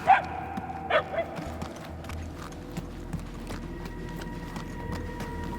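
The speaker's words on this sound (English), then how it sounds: "If you're trying to follow the barks" Dog barks in the video game Marvel's Guardians of the Galaxy, two sharp yips near the start followed by fainter distant barks over an ambient hum, with faint background activity.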